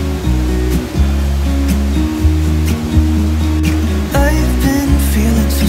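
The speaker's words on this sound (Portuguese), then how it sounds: "É uma queda impressionante, já dá até para ouvir o som da água aí." The Santa Bárbara waterfall in the Poço Azul complex, Chapada das Mesas, Brazil, roars steadily and loudly, its rushing water keeping up a dense, unbroken wash throughout.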